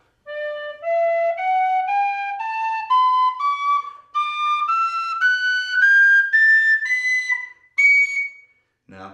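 A pennywhistle plays a clean ascending scale, note by note in an even stepwise rhythm with a short break midway, close and clear with no talking until a brief noise at the end.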